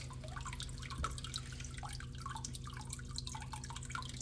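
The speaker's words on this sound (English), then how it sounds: "Still got a little water runoff." Water dripping and trickling off the plumbing of a reef aquarium, a steady run of small drips and splashes heard close up over a constant low equipment hum, with no talking.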